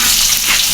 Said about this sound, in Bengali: এই যে মাছ রান্না হচ্ছে